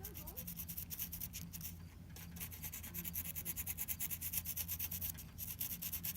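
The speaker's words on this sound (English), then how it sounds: "you want to take the fiberglass pen, they call it, and you want to get rid of any visible rust" A fiberglass pen scrubs visible rust spots off a vehicle's painted body, making a steady, close, fine scratching rasp with a quick stroke rhythm that runs throughout, over a low background hum.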